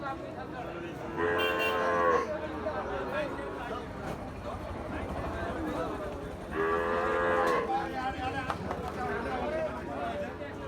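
Gir and Sahiwal bull calves at Ambari cattle market give two long, loud moos over a steady hubbub of crowd talk and market noise.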